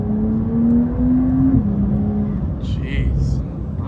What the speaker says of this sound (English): You've transformed this car with this exhaust.